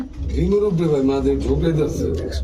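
Low, rolling cooing of pigeons close by at a pigeon farm, overlapping with a voice talking.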